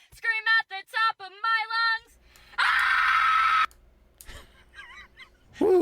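A loud, sustained scream at the top of the lungs bursts out in a morning radio music segment, following a run of short wailing vocal cries and trailing into quieter noises.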